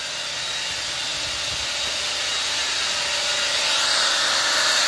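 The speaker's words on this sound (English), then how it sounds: "We're using the hand drill siphon to flare off the biogas" A steady, loud hissing rush of biogas forced from an inner tube by a hand-drill pump and flared, mixed with a high whirring motor hum that continues throughout.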